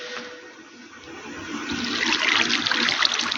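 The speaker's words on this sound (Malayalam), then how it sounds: "അയ്യോ, വെള്ളം കയറി" Water flowing in the Minecraft video game, a soft gurgling rush that starts faint and swells to a louder, steady trickling stream, heard alone without talk.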